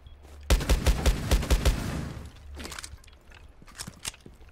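A burst of rapid rifle fire in Rainbow Six Siege tears apart the corner of a wall on the Theme Park map, loud, close shots in a quick rhythmic string, followed by crumbling debris and a few fainter scattered impacts.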